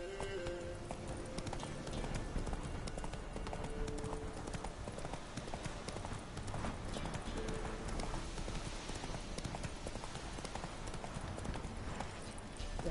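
Horse hooves clip-clopping at a steady gallop in Witcher 3, a continuous rhythmic stream of hoofbeats close by over game background sound, with a brief neigh-like tone early on.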